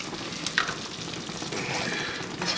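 Salisbury steak meat simmering in beef broth gravy on low heat, a steady close sizzle and bubbling hiss with soft stirring noises, no voices.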